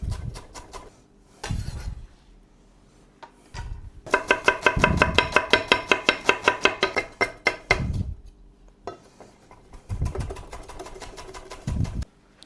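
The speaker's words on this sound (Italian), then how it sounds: "Andiamo a pelare le patate, andiamo a fare il nostro trito." Potatoes being peeled and vegetables chopped for a pasta and potato dish with provola, with rapid rhythmic knife taps on a board in bursts, plus occasional heavier thuds and handling noises in a quiet kitchen.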